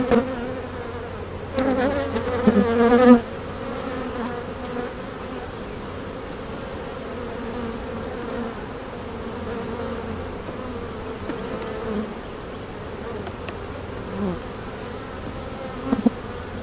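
Honeybees hum continuously around a hive frame lifted during an inspection of a honey super, a close, steady buzz with a louder swell of wings early on, heard alone without talk.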